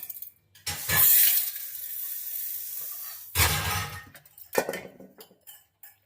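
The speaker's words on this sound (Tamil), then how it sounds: "நான் இந்த பெரிய மிக்சியில் தான் அரைக்க போகிறேன்" A large mixer grinder grinds a drumstick-leaf and curry-leaf powder in two loud close bursts, the first running about two and a half seconds and the second shorter, then a few light clatters.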